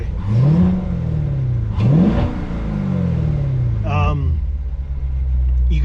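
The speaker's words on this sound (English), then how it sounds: "engine sucking sound of the air coming in" A 2019 Corvette C7 Grand Sport with a newly fitted cold air intake, still cold, revved twice in quick rising-then-falling sweeps before settling into a low idle rumble, loud and close, with a brief voice near the end.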